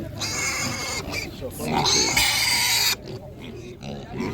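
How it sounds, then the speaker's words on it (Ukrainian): Seven-week-old pigs at an animal market grunt and squeal loudly at close range, with one long harsh squeal in the middle, while people talk over the noise. "гарні свинки"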